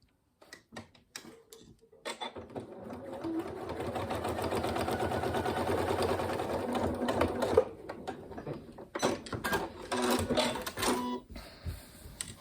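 A sewing machine stitches a zipped pencil case in long continuous runs of rapid needle clatter, close and steady, with brief pauses and handling taps between bursts and no talking.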